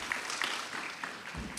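Audience at a county forum cheering and applauding, a dense steady wash of clapping with a few louder whoops, continuous through the stretch.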